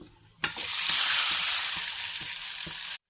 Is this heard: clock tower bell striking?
no